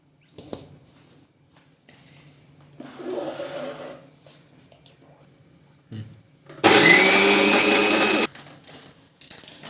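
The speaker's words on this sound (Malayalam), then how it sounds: "ഈ പൾപ്പ് ഒന്ന് അരച്ചെടുക്കാം" A kitchen blender grinds avocado pulp for a shake in one loud whirring burst of about two seconds, following quieter handling noises and brief talk nearby.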